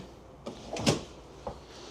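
Soft-close cabinet doors and drawers in a 2025 Jayco Pinnacle 38SSWS fifth-wheel RV kitchen, giving a few quiet, muffled thumps and slides spread over two seconds, with no talking.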